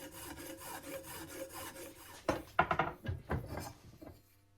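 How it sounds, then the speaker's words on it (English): A coarse file rasps across the cut edges of cast cylinder fins on a Kawasaki Z1 six-cylinder engine, smoothing them to the line. Steady rhythmic strokes run close and fairly faint, then give way to a few sharper scraping bursts. "I use my coarse file to file them down to the line and to make them look smooth and nice."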